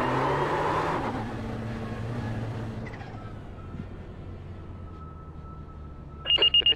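Ferrari 488 GTE or BMW M8 GTE race car starting up in iRacing at the Nordschleife, a loud engine burst settling into a steady idle hum, with a short series of sharp beeping tones near the end.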